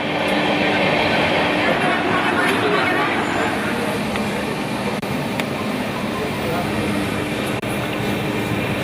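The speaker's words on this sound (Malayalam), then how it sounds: "മിക്ക സമയത്തും 125 കിലോമീറ്റർ വേഗതയിൽ കുറയാതെയാണ് ട്രെയിൻ ഓടുന്നത്" An Amrit Bharat express train runs at about 125 km/h, giving a steady, loud rushing roar with rattling wagon noise throughout, and a voice speaks over it.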